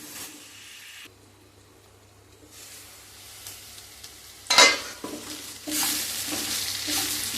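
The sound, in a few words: potato and brinjal curry cooking in a pan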